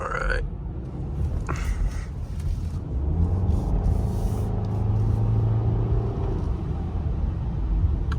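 A 2017 Subaru Legacy engine pulls under moderate acceleration, a low droning rumble with a rising tone heard from inside the cabin, steady and fairly quiet throughout.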